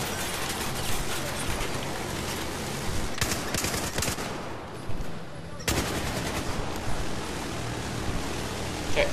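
Sustained machine-gun fire in the shooter Battlefield 4, a dense, loud rattle of overlapping shots with a brief lull midway before the barrage resumes in crisp repeated bursts.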